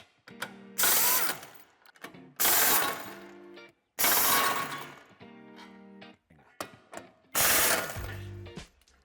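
Hand ratchet loosening the bolts of the metal bumper reinforcement on a 2019 VW Passat B8 sedan. Four separate bursts of rapid, close clicking are split by short pauses, with no talk.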